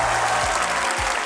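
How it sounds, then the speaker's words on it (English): An audience at a GeoGuessr World Cup finals event applauds the two competitors, giving a brief, loud burst of dense clapping with a low hum underneath. "Everybody in this crowd, make some noise for both of our competitors!"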